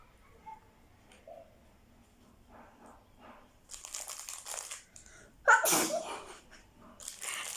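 A single loud, sharp sneeze bursts out near the end, after stretches of quiet rustling and crinkling of plastic packaging from a clothing haul, with a faint voice briefly audible.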